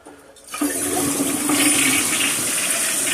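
A newly installed toilet flushes close by, a sudden loud rush of water that swells and keeps gurgling steadily after a brief quiet start.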